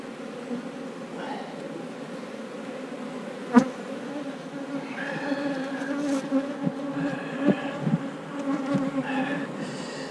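A dense, steady buzz of many honey bees swarming close by while mating nucs are loaded, with occasional individual wingbeats rising louder and a single sharp knock partway through.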